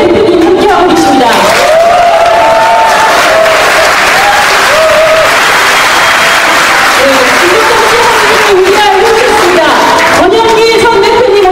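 Loud, sustained audience applause at a party founding convention, dense clapping from a large crowd filling the hall while an announcer's amplified voice speaks over it.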